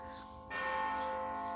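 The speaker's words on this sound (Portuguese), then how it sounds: "Estão a ouvir o sino?" A church bell rings out partway through, its sustained metallic tones swelling loudly and holding steady with no speech over it.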